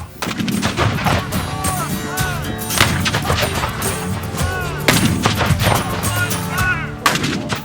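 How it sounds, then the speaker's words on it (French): Repeated heavy booms and blasts of gunfire crash in rapid succession, loud and close, with rumbling echoes between the shots. "les premiers coups de canon résonnent à Fort Sumter"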